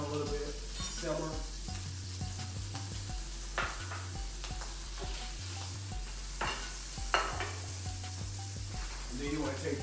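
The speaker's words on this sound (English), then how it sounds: "Put that in there, let it sizzle down a little bit" Green beans and bacon frying in a pan with margarine, a steady close sizzle broken by repeated scraping stirs and a low hum underneath.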